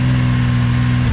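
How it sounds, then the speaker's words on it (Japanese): Honda CBX1000 motorcycle engine idling steadily during charging system checks on a restoration, a loud, close, continuous drone that begins to rise as the throttle opens at the very end. "で例えばこれでちょっと吹かしてみると"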